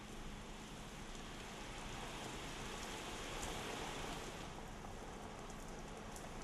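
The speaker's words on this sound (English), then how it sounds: "The district has been receiving heavy rain since Wednesday night and continued to drizzle today as well." Heavy rain pours down steadily in Chitradurga district, a dense, continuous hiss of drops on surfaces at constant loudness with no other sounds.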